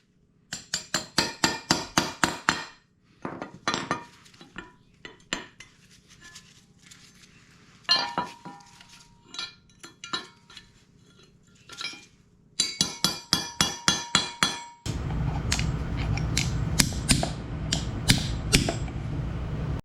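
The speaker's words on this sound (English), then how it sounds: "now I can start working in the slightly larger chisels to start lifting it up" Steel chisels hammered against a bearing race to pry it off a Honda CRF150R motorcycle steering stem: bursts of rapid sharp metallic strikes, then pauses with a few scattered clinks, then another fast run of hits ending in a dense, steady mechanical clatter.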